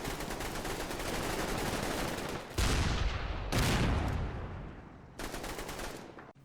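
Churchill tanks firing on German positions in the Combat Mission wartime strategy game, a dense barrage of gunfire with several loud booming blasts at intervals over continuous crackling shots, no voices.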